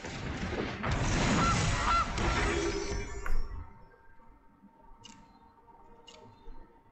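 A goose card's honk in the video game MTG Arena, a loud burst of game sound lasting about three seconds that drops away to quiet, followed by a couple of faint clicks.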